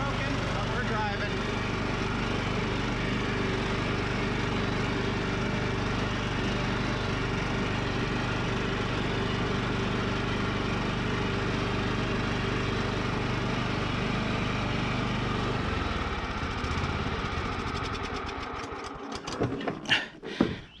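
Cub Cadet lawn mower engine running steadily and loudly up close for most of the time, then dropping away near the end into irregular knocks and rattles; a voice talks over it.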